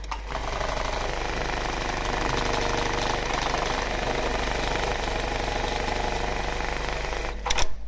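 An industrial eyelet buttonhole sewing machine runs continuously with a loud, rapid mechanical hammering and a deep motor hum.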